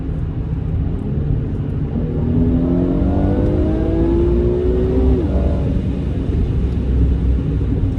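A car is driven on the road, its engine rumbling loud and close with a rising whine as it accelerates through the gears, then settling into a steady drone.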